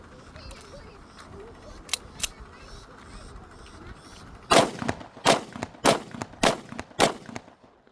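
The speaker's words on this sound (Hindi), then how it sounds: "अभी इसके ऊपर टेस्टिंग फायर करता हूँ" A TT 30 bore pistol is test-fired at a shooting range, with a quick series of about six sharp, loud shots near the end after quieter handling clicks, and a voice talking beforehand.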